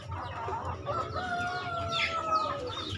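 Chickens and young roosters on a poultry farm cluck steadily, and a rooster crows partway through, the birds close and fairly loud with no voices.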